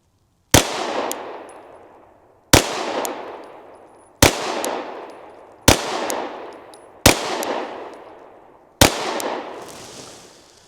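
Glock 49 pistol fired at a shooting range, six sharp loud single shots spaced roughly a couple of seconds apart, each followed by a ringing echo that fades before the next.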